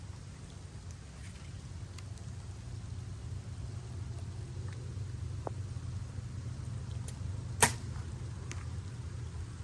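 A Black Eagle PS23 arrow leaves a bow in light rain with one sharp brief release at close range, heard over a steady low rumble of rain and background noise.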